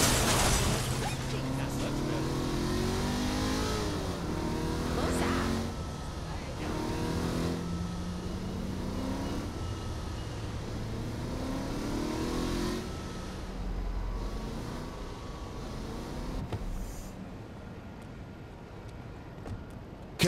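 A car driving in Saints Row: The Third hums steadily, its engine pitch rising and falling through repeated accelerations and gear changes, while voices talk over it; the engine fades near the end.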